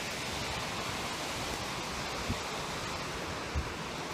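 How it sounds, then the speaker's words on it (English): Steady broadband rush of a waterfall beside a river, constant and fairly distant with a soft wind-like wash, and no voices. "There's the waterfall."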